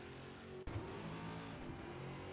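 A race car in the GT Club TA2 Series at Road America in a racing game, its engine droning hard at high revs with a sharp break as it shifts, then roaring steadily on. No voices are heard.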